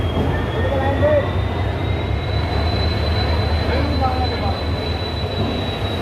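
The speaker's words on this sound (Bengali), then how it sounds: "এই দেখুন বন্ধুরা চলে এসছে আমাদের গীতাঞ্জলি এক্সপ্রেস হাওড়ার একুশ নম্বর প্ল্যাটফর্মে" Gitanjali Express rolling into platform 21 at Howrah, a steady low rumble of wheels on rails with a faint drawn-out high squeal, close and continuous under background chatter.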